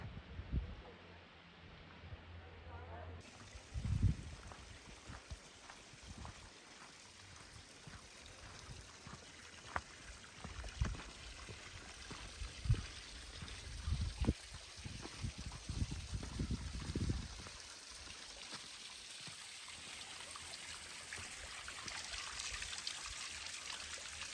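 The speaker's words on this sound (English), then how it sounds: "Oh, there's some waterfalls." Water from a waterfall on a mountain hiking trail trickles and flows steadily, with footsteps, rustling and brief bumps over the continuous stream.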